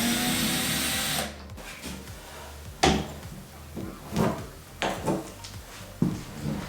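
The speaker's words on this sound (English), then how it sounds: "I'm going to take this ugly doorknob out" An ugly old doorknob being removed from a door during a room renovation, with a sharp tool burst followed by several separate clacks and rattles of hardware, close and clear with no talk.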